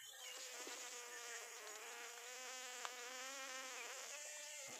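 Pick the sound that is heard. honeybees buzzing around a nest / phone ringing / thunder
honeybees buzzing around a nest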